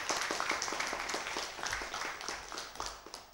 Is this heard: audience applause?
yes